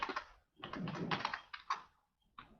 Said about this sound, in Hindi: मैं यहाँ पर मोबाइल नंबर एंटर कर लेता हूँ।